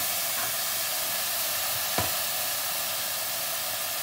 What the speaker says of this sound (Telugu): ఇవి మంచిగా రెడ్గా ఫ్రై అవ్వాలి